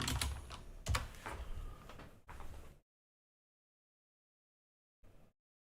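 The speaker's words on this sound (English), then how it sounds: "I need to type in PSA" Quick bursts of typing on a computer keyboard, close and crisp, several clattering runs of keystrokes that stop abruptly, followed by silence and one last brief flurry of taps.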